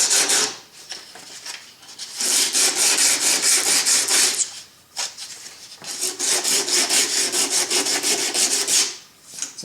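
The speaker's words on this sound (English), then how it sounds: "Just like you were polishing shoes, you can sand this tip." A golf iron head tip with wood at its end is rubbed back and forth on a long sheet of 60 grit sandpaper, producing loud, close rasping strokes in several bursts separated by brief pauses.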